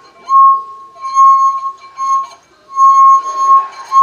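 A wine glass sung by a wet finger rubbed around its rim gives a steady, pure ringing tone that swells and fades in several long, loud strokes, close by and with no talk.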